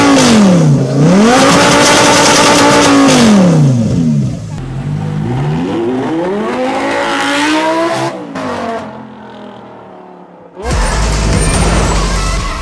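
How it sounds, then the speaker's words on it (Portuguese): An Audi R8 engine with a new exhaust revs hard and loud, rising and falling in pitch through repeated accelerations, then cuts to a sudden burst of roaring noise. "olha esse trechinho aqui desse R8 acelerando"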